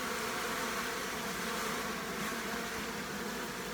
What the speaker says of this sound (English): this box is packed full of bees